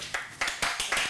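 A small audience at an economic development conference claps briefly, a few sparse, close hand claps coming in a short irregular burst.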